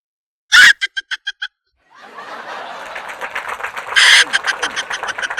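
A voice imitates an angry rooster in a comic cartoon scene, letting out a sharp squawk and a string of quick clucks. After a short pause comes cackling, laughter-like chatter, then a second loud crow-like burst and more rapid clucking.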